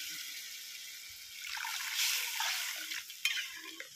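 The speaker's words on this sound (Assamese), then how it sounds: "এতিয়া পানী ঢালি দিওঁ" Water poured into local chicken frying with vedilata and narasingha herbs sets off a rising hiss and bubbling sizzle, fairly faint and close, with small clinks near the end.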